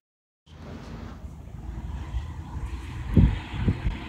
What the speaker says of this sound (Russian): Ого, какой ветер!